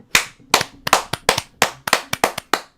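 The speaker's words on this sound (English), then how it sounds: "a round of applause for Slans" A few people clapping in sharp, separate claps at an uneven rhythm during an Elden Ring tournament, close and loud, with no voices.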